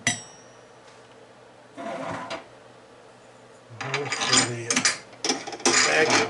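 A small machine drills 1/8-inch holes for Hall sensor magnets into a Hoglet cam gear, giving intermittent bursts of mechanical whirring and grinding with quieter gaps between them and no talk.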